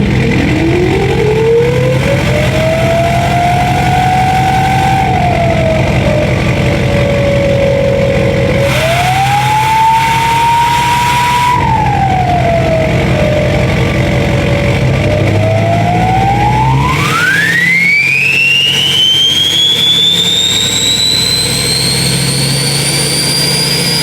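A Duramax diesel engine fitted with a 9-blade turbo starts and revs, a loud turbo whistle rising and falling with each throttle blip before climbing to a high, sustained spool, close-up and continuous.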